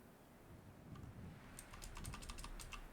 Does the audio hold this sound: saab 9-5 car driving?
no